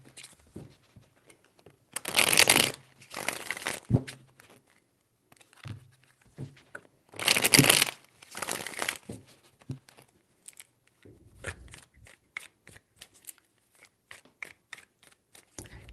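A tarot deck shuffled in repeated bursts, two loud riffling passes standing out, with lighter card taps and handling sounds filling the gaps between them, close and clear.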